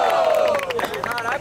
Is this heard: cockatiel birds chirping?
no